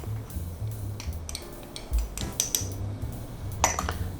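A spoon mixes ground pepper, seasoning powder and cornstarch in a bowl, giving close, irregular clinks and scrapes against the dish.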